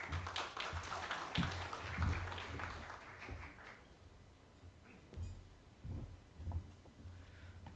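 Faint, distant applause from a conference audience for Major General Padilla, a soft patter of many hands that thins out into a few scattered claps and taps.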